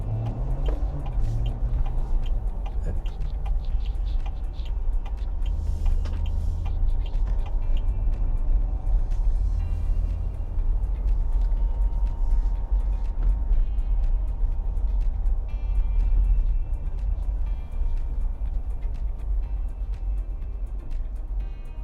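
Steady low engine rumble and road noise from an INEOS Grenadier SUV driving through city streets and turning, continuous and close with no talk.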